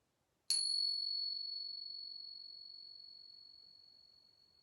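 A single bell struck once during a children's yoga class rings out clear and bright, its pure tone slowly fading over several seconds in an otherwise quiet room.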